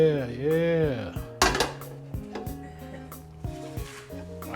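Heavy metal clanks and scrapes sound as a large pan is set down and shifted on a home stove, sharp knocks followed by lighter rattles, fairly quiet, with a short vocal sound at the start.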